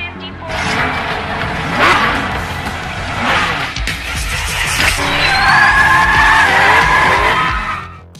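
Formula One race cars roar past with engines revving and tires squealing in skids, loud and close, engine pitch rising and falling as they race by.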